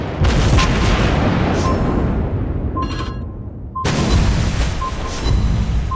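Battleship gunfire and shell explosions from World of Warships Blitz, the French tier 9 battleship Alsace firing, loud rumbling booms that fill the clip, with one brief lull before another heavy blast.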